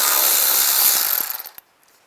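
Ratchet spinning a 10mm socket to remove nuts on a 2004-2010 BMW X3, a rapid loud clicking burst that slows and stops after about a second and a half, close up.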